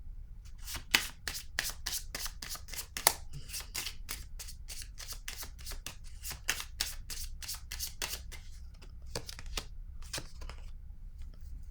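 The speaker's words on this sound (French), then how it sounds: "Je vais déposer une autre carte." Tarot cards are shuffled and laid down by hand in a long run of quick, crisp riffling snaps with soft papery slaps, close and faint, with no talking.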